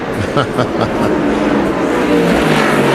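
NASCAR stock cars roar into turn 3 during the 2004 Subway 500, a loud steady engine drone with rising revs, under continuous commentary.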